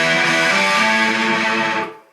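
A heavily distorted electric guitar through a Boss HR-2 harmonizer pedal rings out a thick, layered chord that sustains loudly before cutting off abruptly.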